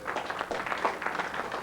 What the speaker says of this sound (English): a strong round of applause